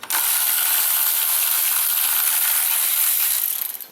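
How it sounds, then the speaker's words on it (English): A ratchet on a Honda Accord with a slight miss at idle removes ignition coils and spark plugs. It makes a close, steady, hissy whirr for about four seconds and then trails off. "take these out, we'll pop the spark plugs out."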